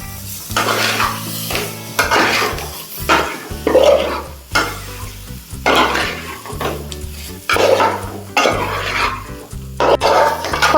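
Mango pieces being stirred into a spice mix in a pan for a traditional ripe mango varattiyathu, with a spoon repeatedly scraping and clanking against the metal over a soft sizzle in steady bursts.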